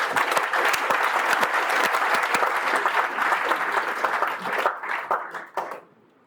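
Students clap together in a burst of applause at an entrepreneurship talk, dense and steady at first, then thinning out into scattered claps before stopping.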